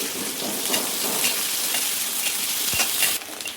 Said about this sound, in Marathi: मोहरी, जिरं, थोडासा हिंग, कांदा हे सर्व परतून घ्यायचं आहे।